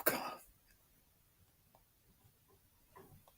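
One short, sharp cough, close to the microphone, right at the start, followed by near silence with faint small ticks.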